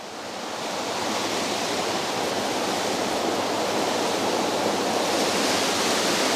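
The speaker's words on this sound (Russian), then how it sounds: "Шумит водичка." Water rushes loudly through a spillway in the rocky Karelian landscape, a dense, unbroken roar that swells slightly at the start and then holds steady and close.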